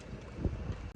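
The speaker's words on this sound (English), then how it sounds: "It's the windiest day of the year." Strong wind on a farm during maize silage work roars as a short, deep buffeting rush against the microphone, steady and fairly quiet.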